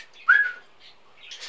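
An African grey parrot lets out a single sharp whistled screech up close, short and piercing, followed by quieter rustling chirps in an otherwise still room.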